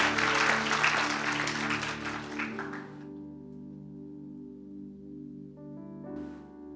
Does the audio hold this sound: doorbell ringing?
no